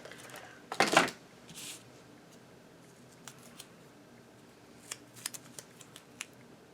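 Scissors trim fabric-like non-fraying ribbon for a handmade Christmas card, one quick, fairly loud snip followed by a softer cut, then faint scattered clicks and taps of craft handling in a quiet room.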